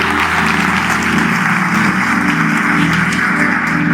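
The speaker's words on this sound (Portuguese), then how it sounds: "Aplauda o Senhor." A church congregation claps loudly and continuously in praise, a dense sustained roar of applause over a low droning organ or keyboard pad.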